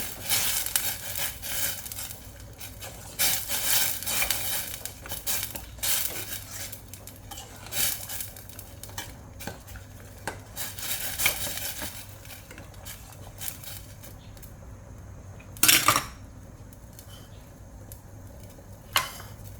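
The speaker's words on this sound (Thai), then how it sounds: "คนให้น้ำพริกเผากระจายค่ะ" A utensil scrapes and clinks against a metal pot in repeated stirring strokes while roasted chili paste is stirred into tom yum broth, with one sharp clank near the end and no talking.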